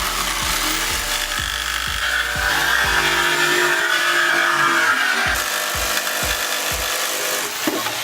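A rough cut is made through fibreglass to open a hole for a subwoofer speaker, giving a harsh, continuous grinding buzz close up, with rhythmic low thumps of the tool stroking at the start and again near the end.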